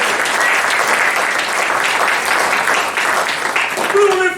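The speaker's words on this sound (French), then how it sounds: "Applaudissements, mesdames et messieurs." Sustained audience applause at a French award ceremony, dense and loud from start to finish, with a voice starting to speak over it near the end.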